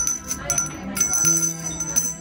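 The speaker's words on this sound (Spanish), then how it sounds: "Entonces, vuelves a tocar la campana." Small bell rung by hand at a Harry Potter themed bar in Valencia, several bright dings in quick succession over faint room murmur.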